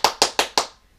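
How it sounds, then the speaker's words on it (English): Four sharp hand claps in quick, even succession, close and crisp, each with a short decay, then quiet. "I clap my hands a lot"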